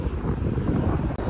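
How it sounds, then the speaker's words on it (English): Wind gusts buffet the microphone outdoors at North Finchley bus station, a brief low rumbling blast with no voices. "Oh, it's windy out here."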